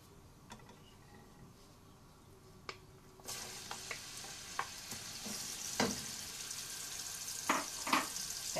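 Ground meat sautés in a pan with no other ingredients added. A steady close sizzle suddenly swells louder partway through, with scattered ticks and scrapes of stirring and no voices.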